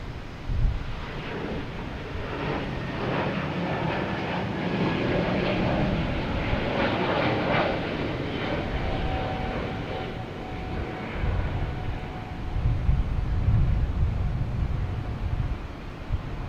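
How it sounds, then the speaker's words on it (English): Spirit airliner departing Boston Logan, a steady distant jet roar with wind buffeting the microphone and a low rumble swelling near the end. "We got Spirit here heading to Charlotte."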